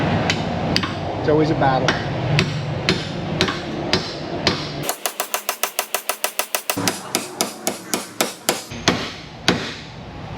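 Hammer blows driving a chisel into a car's front end suspension in a workshop, a series of loud metallic strikes that speed into a rapid run of evenly spaced whacks before slowing again, with a brief spoken remark.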